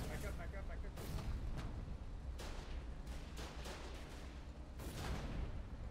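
Gunfire in a combat video game, a string of sharp shots and heavier booming blasts going off irregularly over a constant rumble, with players talking over the action.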